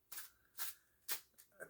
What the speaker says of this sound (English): This is how you shuffle all tarot decks.